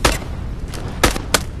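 Enemy gunfire in the VR shooter Into The Radius 2, aimed at a rock: three sharp, loud shots, one at the start and then a close pair about a second later, with no talk.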